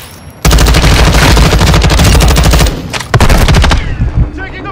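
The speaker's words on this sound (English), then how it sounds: "Taking effective fire!" Rapid, loud automatic gunfire bursts from Call of Duty: Warzone 2, near and sustained with dense overlapping shots, a short pause, then more scattered fire before it trails off.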